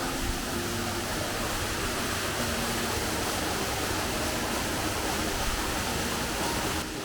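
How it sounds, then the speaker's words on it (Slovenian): The upper waterfall in a Slovenian gorge roars as a loud, steady, close wash of falling water that fills the whole clip without change. No voices are heard. "to je pa ta zgoren slap, ki sem ga tudi videl"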